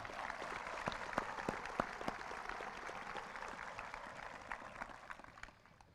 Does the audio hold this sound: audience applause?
yes